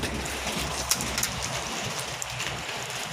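Rain begins to fall outdoors at a rural solar panel installation site in Thailand, a steady, even hiss of light rainfall with a few faint drop ticks and no talking.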